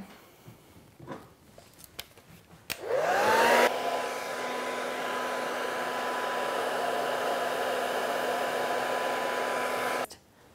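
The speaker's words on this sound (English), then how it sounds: "So now we're gonna blow dry it." A handheld hair dryer switches on with a rising whine and then blows in a steady, loud whoosh for several seconds while drying freshly colored hair, before cutting off abruptly.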